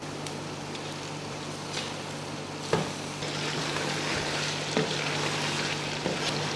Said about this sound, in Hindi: अब इस गोश्त की भुनाई करेंगे।